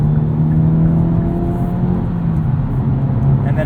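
A Hyundai Elantra N's turbocharged four-cylinder exhaust holds a steady, smooth engine tone under a constant drone of road and cabin noise, without pauses or sharp revs.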